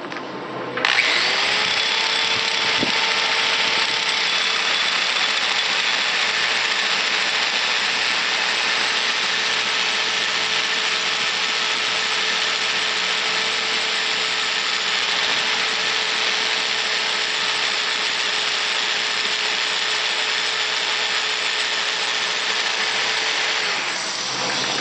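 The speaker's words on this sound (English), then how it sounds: "then we'll take the sander and get kind of a coarse profile" A power sander runs continuously and steadily for the whole stretch, shaping a wooden goblet turning on a lathe, with a constant loud whir and no talk.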